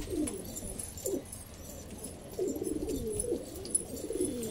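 A pigeon coos close by in soft, rolling, repeated phrases, a few gurgling calls spaced across the stretch over a quiet outdoor background with faint ticking noise.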